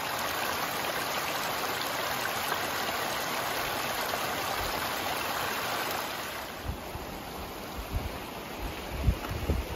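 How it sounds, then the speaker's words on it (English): A rushing mountain stream in the Sierra Nevada near Tuolumne Meadows gives a continuous broadband roar of flowing water, steady and fairly close throughout with no talking. "the sound of rushing mountain water and babbling"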